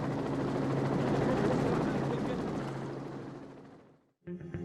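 A helicopter flies with a loud, steady rotor roar and whine that swells and then fades away over a few seconds, followed by a brief silence and then a voice.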